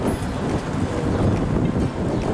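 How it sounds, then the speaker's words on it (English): Steady wind blows outdoors, a rough continuous rumble buffeting the microphone with no other clear sounds. "Maybe it's a little bit windy up here today"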